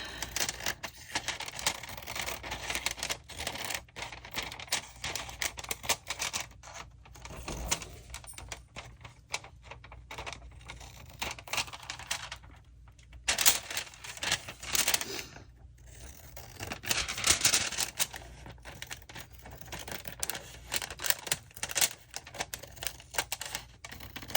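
Paper for an upcycled window envelope pocket is trimmed on a cutter, giving a long run of close, dry, rapid clicking and scraping strokes with short pauses between them and no speech.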